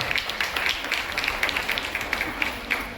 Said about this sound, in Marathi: जरा जोरदार टाळ्या संयुक्तासाठी.